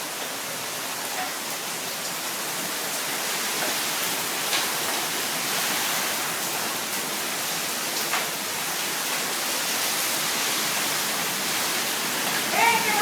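A hailstorm in Uberlândia, Brazil, makes a dense, continuous hiss and clatter of ice stones pelting the ground and surfaces, steady and fairly loud, with a few sharper impacts rising near the end.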